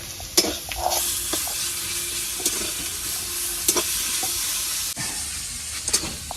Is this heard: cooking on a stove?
yes